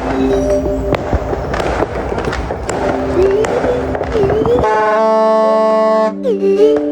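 Continuous crackling bangs of New Year fireworks with a busy crowd in the background, followed by a sustained loud horn or whistle tone near the end.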